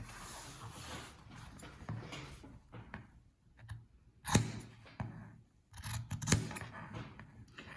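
Sharp scissors snip through fabric while trimming a seam allowance near stitching, giving two distinct crisp cuts with quieter handling and rustling between them and no talking.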